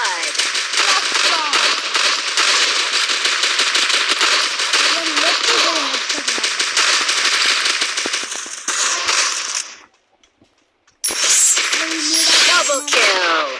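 Sniper rifle gunfire in the mobile battle royale game Free Fire, with dense, continuous game sound effects loud throughout, a brief silent gap near the end before the noisy action resumes.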